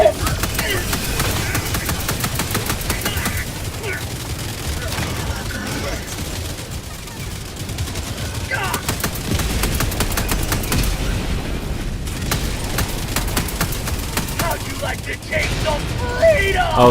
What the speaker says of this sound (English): Frickin' walking barrage is a great idea